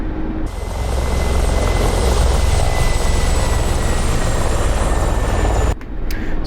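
Mi-24 Hind helicopter taking off in the DCS flight simulator: a loud, steady rotor and turbine drone with a high whine, cutting off abruptly near the end.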